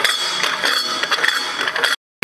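Ratchet wrench clicking quickly as it threads a nut onto an old stud on a 1996 Impala SS, a close, steady rattle of pawl clicks that stops abruptly near the end.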